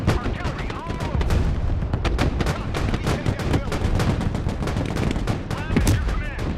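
Battle in the Broken Arrow war game: a dense, loud mix of rapid gunfire bursts and heavy artillery booms rolls on continuously, with voices faintly beneath the din.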